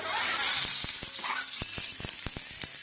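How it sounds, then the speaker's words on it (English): Steady hot sizzle of chopped onion frying in a cast iron skillet, with occasional light clicks and scrapes from stirring. "I'm going to start off by just throwing some onion in there real quick."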